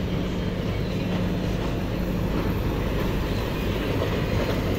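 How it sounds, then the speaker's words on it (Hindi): A mini toy train circles Kankaria Lake in Ahmedabad, giving a loud, steady rumble with continuous rail noise and faint clatter for a few seconds, with no talking. "ये देखो मिनी टॉय ट्रेन आ रही है, तो ये पूरा लेक आपको घुमाती है।"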